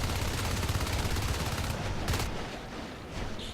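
Rapid video-game gunfire rattles out in dense automatic bursts for about two seconds, loud and close, then thins to scattered fainter shots.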